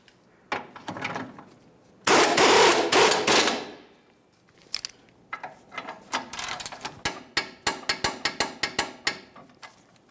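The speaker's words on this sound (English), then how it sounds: "we're going to snug this mounting nut with a 19 millimeter" A ratchet with a 19 mm socket snugs a control-arm mounting nut during rear CV axle replacement on a 2007-2013 Acura MDX 3.7L V6, with close, crisp runs of rapid clicking and a loud burst of mechanical rattle partway through.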